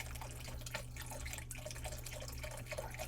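Beef broth poured into a pot at a cold fall cabin campsite, a continuous splashing liquid trickle over a steady low hum, fairly faint and without talking.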